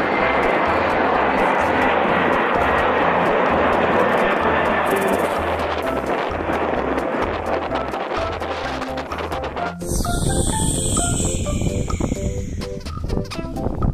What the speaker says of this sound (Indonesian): di sini ada pesawat Airbus.